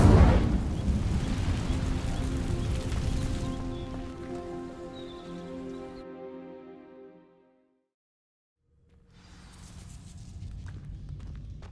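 In Hogwarts Legacy, an Incendio fire spell sets dry vines burning: a loud crackling whoosh of flame bursts at first and roars steadily, then fades to near silence before a softer crackle returns.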